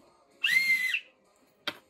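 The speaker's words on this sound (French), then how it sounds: "Et l'arbitre, il siffle" A referee's whistle at the Saint-Étienne vs PSG Ligue 1 football match of the 2021/2022 season: one shrill, sustained blast of about half a second, then a short sharp chirp a moment later, clear and close.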